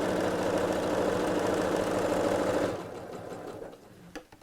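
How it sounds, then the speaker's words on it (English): Sewing machine stitching a three-pocket bag runs steadily and loudly for almost three seconds, then stops, leaving a few faint clicks and handling sounds. "So reverse backwards or lock your stitches when you first start, so that's not going to come undone."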